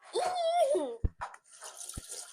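Water from a basin tap splashing and running while a face is washed, short bursts and drips broken by gaps, with a voice heard at the start.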